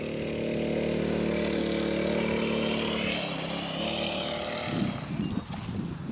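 A mini bike engine runs steadily at close range with a strong low harmonic drone, its tone easing and growing rougher toward the end.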